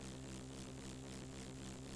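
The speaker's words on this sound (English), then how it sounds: "Engine's going flat out now" B-17 Flying Fortress piston engines at full power on the takeoff run, a steady, loud droning roar with a pulsing beat that holds constant throughout, no voices over it.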